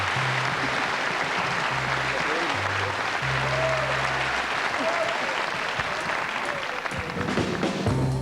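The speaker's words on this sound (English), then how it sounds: "Give him a big round of applause." Audience applause for a singer at a live music show, a dense, steady wash of clapping from a crowd that fills the whole stretch, with a low musical hum underneath.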